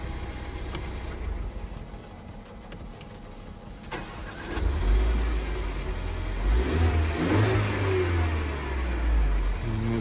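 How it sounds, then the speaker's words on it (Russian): A Mercedes-Benz GLA 180 engine, under tuning work, idles quietly and then revs up loudly several times, each rise swelling and falling back with a deep, close-up roar. "Я так понял, что она на педаль газа либо реагирует, либо нет."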